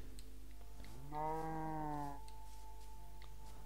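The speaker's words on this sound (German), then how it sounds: "Da ist eine Kuh." A single drawn-out cow moo in Minecraft, clear and moderately close, lasting about a second over a steady low ambient hum.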